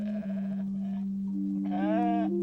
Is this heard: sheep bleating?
yes